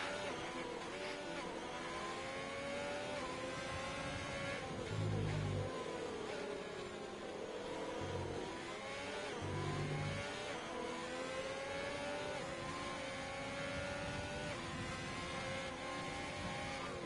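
Formula 1 race car engine in a racing video game at the Austrian Grand Prix, a steady high-pitched whine with shifting revs running throughout, moderately faint and continuous.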